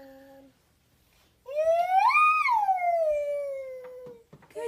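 A young child imitates a fire truck siren with a rising then slowly falling wail, a single loud vocal howl after a brief adult voice.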